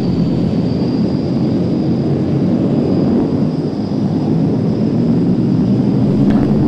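Aircraft formation taking off at the Waddington Airshow in calm surface wind, a continuous broad roar of jet engines, loud and steady for the whole stretch, with no talk.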